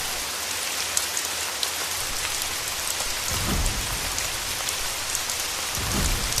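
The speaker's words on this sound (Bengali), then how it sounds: "তুমি দেখছো এটা কি রাহুল মাছের বৃষ্টি মনে হচ্ছে" Steady, dense rain falls continuously, with low rumbling swells toward the middle and end, like distant thunder or gusts.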